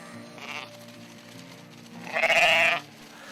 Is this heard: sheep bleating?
yes